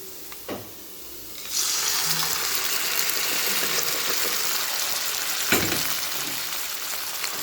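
Grated bottle gourd drops into a pan of sautéed onions, and after a soft clatter a loud, broad sizzle bursts up and holds steady, with occasional stirring scrapes nearby.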